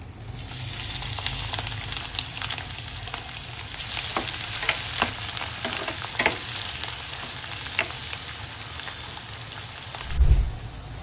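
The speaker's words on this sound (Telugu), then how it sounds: "ఆయిల్ వేడిన తర్వాత ఉల్లిపాయ ముక్కలు, పచ్చిమిర్చి ముక్కలు వేసుకోవాలి." Sliced onions and green chillies fry in hot oil in a pot on the stove, giving a continuous close sizzle and crackle with scattered pops. A dull knock from the pan sounds near the end.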